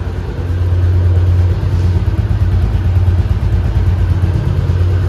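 A Bajaj Pulsar 150 BS4 motorcycle engine idles steadily after starting, a loud, close, continuous low rumble with an even throb and no one talking over it.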